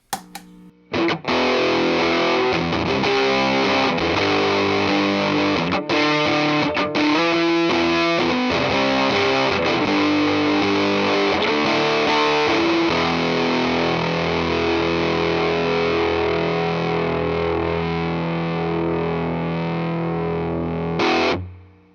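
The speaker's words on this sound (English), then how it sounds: "let's hear the JHS Bender first" Electric guitar through a JHS Bender, a Tone Bender-style fuzz pedal, playing loud, saturated chords and riffs continuously for about twenty seconds with dense distortion and a few brief choppy pauses early on.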